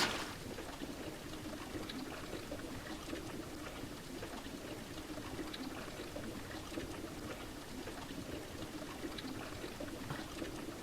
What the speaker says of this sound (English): Okay, and then we put water into this.